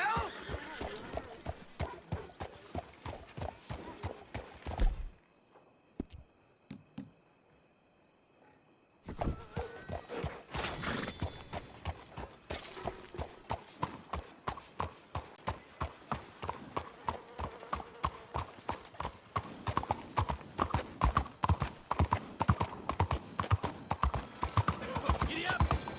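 Horse hooves clip-clop in a steady rhythm in Red Dead Redemption 2, loud and continuous apart from a brief near-silent gap, with a voice speaking over parts of it.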